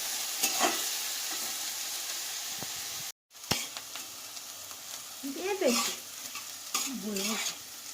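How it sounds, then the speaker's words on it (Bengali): Vegetables for chirer polao, a Bengali flattened-rice pulao, frying and being stirred in a pan, with a steady sizzle, a short dropout partway through, and scraping stirs near the end. "সবজিগুলো একটু লাল লাল করে ভেজে নিয়ে তারপরে আবার"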